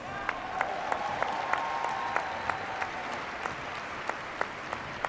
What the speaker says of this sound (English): You notice the claps are not exuberant.